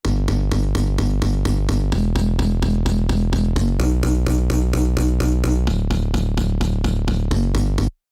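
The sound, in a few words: synth bass line in sixteenth notes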